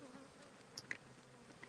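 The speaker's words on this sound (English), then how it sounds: "Let's kind of look over here and see how these bees are looking from the entrance." Honey bees buzz faintly at a hive entrance, a soft insect drone with a few individual bees passing close, all heard quietly outdoors.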